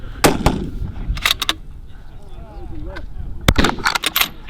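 Rifle shots at a PRS regional long-range precision shooting match at 1400 yards ring out as several sharp, loud cracks, a pair early, another around the middle, and a cluster near the end, with faint crowd and breeze noise between.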